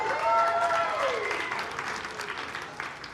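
Hundreds of people applaud in a church service, a broad wash of clapping that fades gradually over about three seconds, with a brief spoken voice near the start.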